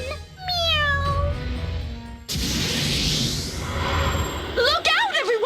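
Cat meows in the video game Bravely Second: End Layer, a series of bright rising-falling mewing calls at the start and a wavering cluster near the end, with a crashing burst of game effects and music filling the middle.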